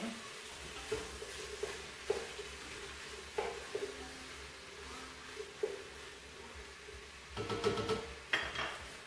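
Vegetables in a chili pot are scraped aside and ground meat is dropped in, bringing a series of clattering utensil knocks and scrapes against the pot with a faint sizzle underneath, the louder clanks bunching together toward the end.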